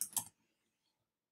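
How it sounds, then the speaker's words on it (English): A short burst of quiet computer keyboard typing, a few quick key clicks close up, then silence. "type in golf again."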